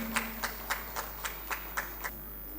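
About nine sparse, evenly spaced claps ring out to honour guests at a regional Arya convention, a slow, rhythmic pattern against a quiet hall with a low hum.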